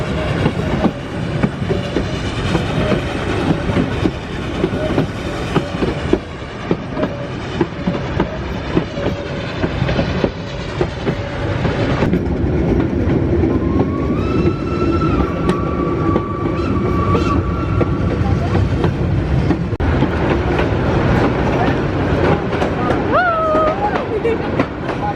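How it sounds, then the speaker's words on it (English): A train rolls along its rails with a steady, loud rumble and rhythmic clatter. Brief high wheel squeals rise near the end, and people talk faintly under the noise. "We're on the train outside the car."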